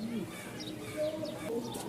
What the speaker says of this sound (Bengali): এই হচ্ছে মেলের ডাক দেখাই একটু